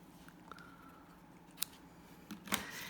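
Scissors snip the tails of a ribbon on a handmade card, giving a few quiet, crisp cuts close by in an otherwise still room.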